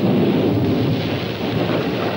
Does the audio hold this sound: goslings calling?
no